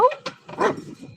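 A dog barks at a rescue show, where new dogs are meeting: a few loud, close barks and yips in quick succession, with quieter rustling between them.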